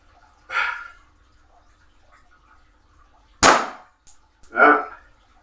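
Toy pistol firing three separate sharp cracks spaced over a few seconds, each a loud close snap against near silence.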